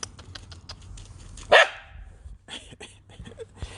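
A dog gives a single sharp, loud bark outdoors, followed by a few faint yips and small noises, with no talking.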